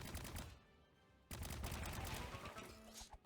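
Blink's gun firing homing missiles in the video game Rocket Arena, a dense, continuous volley of rapid shots and blasts that briefly drops lower before surging back louder, with no talking.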